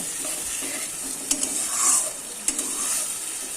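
Spice paste for rui doi fries in a pan with a steady close sizzle while it is stirred, with a few brief scrapes and clinks of the spoon against the pan.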